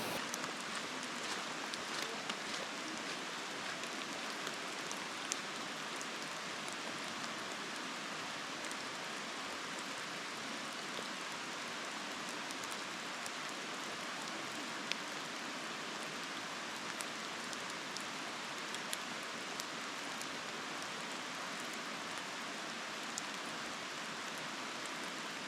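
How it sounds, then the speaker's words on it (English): Light drizzle falls steadily on a hiking trail to Avalanche Lake in Glacier National Park, a soft, even hiss with faint scattered drops that continues for the whole stretch with no talking. "It wasn't raining too hard, it was more of a light drizzle"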